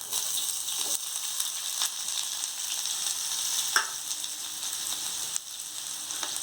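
Onions sizzle steadily in a pan for tomato poha, a bright, close frying crackle with a few stirring clicks and scrapes and no talking.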